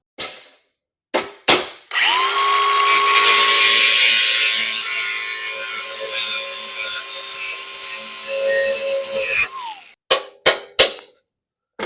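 Power drill bores out a steel rivet on a 1941 Knucklehead, a loud, steady grinding whine lasting about eight seconds, framed by a few sharp clacks and knocks before and after.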